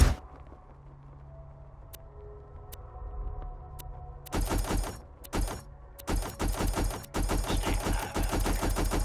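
Rapid automatic gunfire in Borderlands 2 opens after a quiet stretch with soft clicks, coming in loud, dense bursts broken by short pauses, close and dominant with no talk over it.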